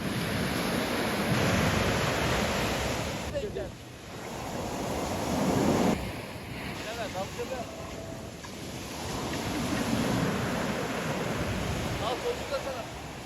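Waves wash onto the shore in repeated surges, with wind buffeting the microphone and faint voices in the background.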